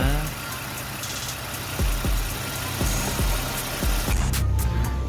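A 2019 Bentley Continental GTC First Edition convertible with a 6.0 W12 engine idles steadily at close range, a low rumble with periodic thumps and a rising hiss near the end.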